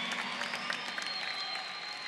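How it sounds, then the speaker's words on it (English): A graduation audience at North High School's 2019 ceremony claps for their parents, a dense, steady roll of applause from a large crowd heard from a distance, with no talking. "Graduates, please stand and give your parents a round of applause for all of their support."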